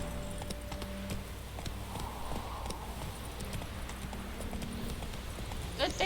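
Rapid rhythmic hoofbeats of the horse Roach galloping in the video game Witcher 3, steady clip-clop under a bed of game music and ambience.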